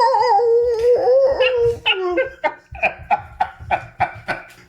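A dog howls and whimpers in a long wavering cry, then breaks into a run of short sharp yelps with a steady rhythm, loud and close, as if launched into the air.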